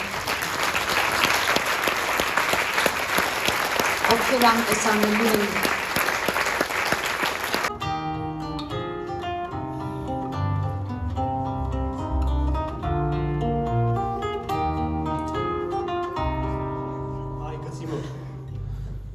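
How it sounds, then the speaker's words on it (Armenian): A live concert audience claps loudly for volunteers, with dense sustained applause for several seconds before it gives way to band music; a voice speaks briefly over the crowd. "Ես ուզում եմ, որ դուք բոլորը ծափահարեք այն բոլոր կամավորներին"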